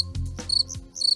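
Cricket chirping used as a sound effect, a few short bright chirps in quick bursts over a faint low hum, close and clear with no voices.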